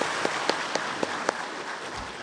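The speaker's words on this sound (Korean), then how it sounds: "박수로 하나님께 영광 올려드리겠습니다." Congregation clapping during a Sunday service at a Daegu church, faint and distant, with soft evenly spaced claps standing out above a light background wash.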